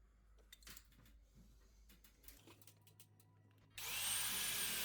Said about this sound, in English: Drilling the holes, I went in with a pilot drill first.